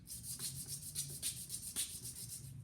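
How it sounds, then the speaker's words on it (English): A small phonograph governor drive gear rubbed over a sheet of 320-grit sandpaper laid flat on a counter to remove burrs, making quiet rhythmic back-and-forth rasping strokes, close and steady, with no voice. "you take a piece of 320 sandpaper and lay it on a flat piece"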